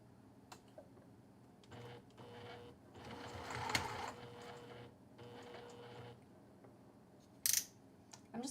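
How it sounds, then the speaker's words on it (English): A sewing machine stitches a ribbon strap for a bag in several short bursts, whirring quietly with pauses between, ending with a brief sharp clack. "I'm going to take this over to the sewing machine"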